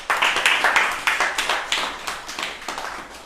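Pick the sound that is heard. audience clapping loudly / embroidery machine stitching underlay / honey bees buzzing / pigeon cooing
audience clapping loudly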